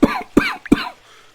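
A sick old man lying on a cot coughs three times in quick succession, harsh and close, with nothing else heard.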